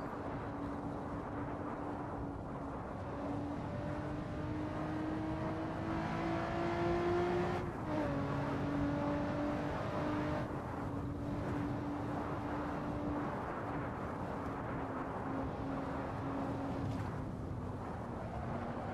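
Lotus Evora engine lapping the Isle of Man TT circuit in Assetto Corsa, a steady droning engine note rising through the gears with brief dips at shifts, continuous and fairly quiet with road noise underneath.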